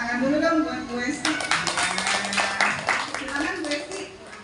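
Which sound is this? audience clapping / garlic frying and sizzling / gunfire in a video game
audience clapping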